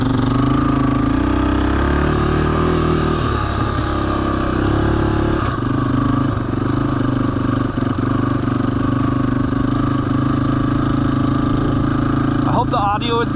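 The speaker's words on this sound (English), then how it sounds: "I'm not too sure if the bike is going to be too loud" Dirt bike engine running on a dirt road, a continuous close rumble with steady low harmonics and small rhythmic variations.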